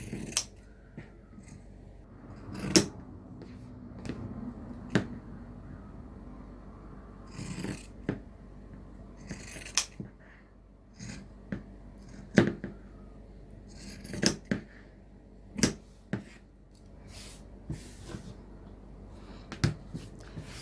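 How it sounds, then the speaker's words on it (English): Pinking shears cut around the edges of fabric for a lace zipper pouch, a series of crisp, close snipping crunches at irregular intervals over a quiet background. "I'm going to grab my pinking shears and I'm going to pink all the way around"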